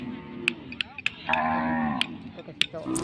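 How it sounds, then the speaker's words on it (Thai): Cattle at a Thai livestock market for cows and buffalo, mooing and lowing close by among people talking, with sharp knocks and clatter scattered throughout. "วัวก็เริ่มเข้ามาเรื่อยๆนะคะเพื่อนๆทยอยเข้ามาเรื่อยๆค่ะ"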